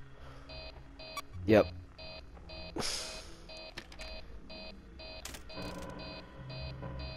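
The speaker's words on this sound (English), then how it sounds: "It's gonna start beeping, which is gonna bring him over." Electronic beeping in the horror video game Five Nights at Freddy's 3, a steady pattern of repeated short tonal beeps running through the clip, with a brief spoken word and a few game sounds over it.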